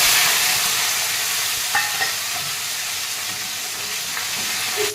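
Tomatoes frying with cumin seeds for a mint chutney give a steady, close, hissing sizzle throughout, with a couple of faint stirring clinks.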